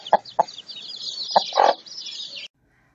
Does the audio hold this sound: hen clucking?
yes